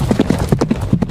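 Horse hooves clip-clop steadily at a quick, even pace in a horror audio drama, each strike sharp and close, with no voices over them.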